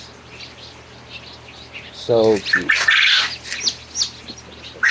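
Barnyard mix baby chicks chirp and peep in short, bright bursts over a quiet background, with a person speaking briefly in between.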